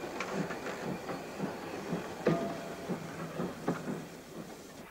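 A Yugoslav narrow gauge steam locomotive, Class 73 262, heard as a steady rolling train with rhythmic clickety-clack beats and occasional sharper knocks, at moderate distance and fairly faint, with no talking.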